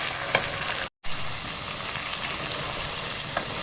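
Chopped onion and a medium tomato frying in a pan for a kaleji masala, giving a steady, dense sizzle with light crackles throughout and one brief dropout.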